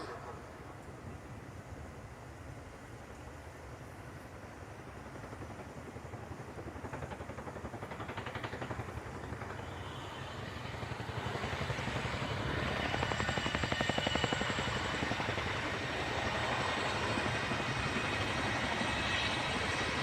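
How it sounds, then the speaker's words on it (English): Military helicopter climbing and maneuvering in a flying display at Farnborough International Airshow 2024, a distant rotor and turbine roar that swells louder toward the middle and stays steady, with a commentator talking over it. "As the aircraft climbs and builds rearwards momentum, the lower ballistic protection is presented to the threat."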